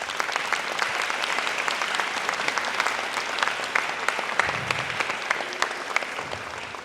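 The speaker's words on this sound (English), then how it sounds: "Can we pause for a moment and applaud for all of those people?" A concert audience claps in sustained applause for event staff, a dense, even patter of many hands with no talking.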